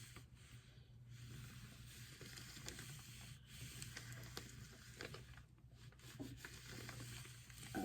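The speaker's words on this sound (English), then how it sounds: "I went back with my hot iron, and it is going to melt that embossing powder." A hot iron melts gold embossing powder on a doily, making a faint, continuous rubbing and soft sizzling hiss with scattered light scrapes, heard alone and quiet.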